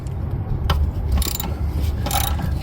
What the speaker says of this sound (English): I just need my 12mm ratchet, and there's 2 bolts, and that is going to remove what's left of this